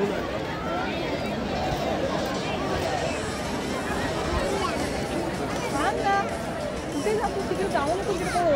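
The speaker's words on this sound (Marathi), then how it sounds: "इकडे आहे फाउंटन शो आणि ही तुम्ही गर्दी बघू शकता आता" A large crowd waits for the evening fountain show at Brindavan Gardens in Mysore, filling the air with dense, continuous chatter and babble, with nearby voices rising out of the hubbub.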